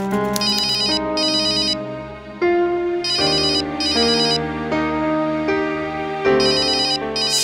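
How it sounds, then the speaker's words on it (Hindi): A mobile phone ringtone plays loudly and alone, a repeating melodic electronic tune with bright chiming bursts that cycles through several phrases without pause. "फोन बज रहा है तुम्हारा।"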